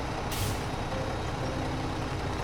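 A game truck gives a sharp, hissing release of its air brakes near the start, over a steady low idling engine rumble that continues throughout.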